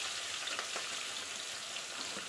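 Mutton and potatoes frying together in a pan, a steady soft sizzle with faint crackling pops running evenly throughout.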